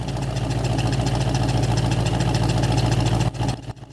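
A V8 Ford Mustang engine, revived after sitting for 22 years, idles close by with a steady, rumbling, slightly uneven rhythm before cutting off abruptly.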